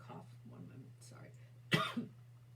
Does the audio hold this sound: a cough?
yes